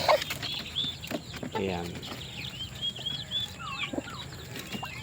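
A turkey hen with her single chick clucking on a farm, soft bird calls and chirps scattered through the clip alongside someone talking nearby.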